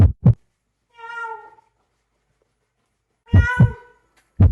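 A cat gives two drawn-out meows, close and clear, separated by silence and framed by short thumping knocks.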